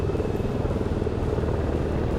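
Aerobatic helicopter performing a descent manoeuvre at an air show, a steady dense rotor and turbine rumble heard continuously at a distance with no pauses.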